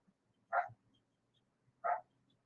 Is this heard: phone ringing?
no